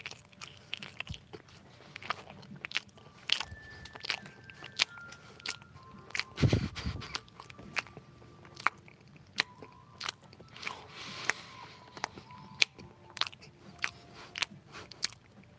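Someone chewing dry food at close range, with wet crunching bites and scraping mouth sounds coming in irregular bursts and one louder crunch midway, no talking.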